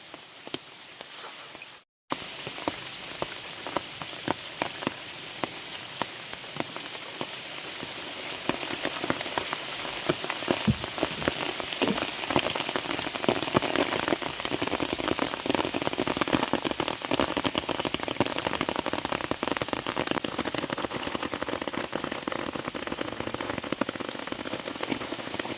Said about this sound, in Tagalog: Lumakas na po ang ulan.